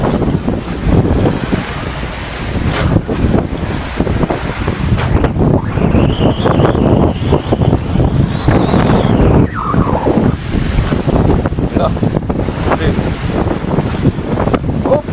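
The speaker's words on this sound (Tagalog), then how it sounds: "Lalaki ng alon ah." Big ocean waves crash and surge around a small fishing boat at sea while strong wind buffets the microphone, loud and continuous, with a whistling engine or wind tone rising briefly midway.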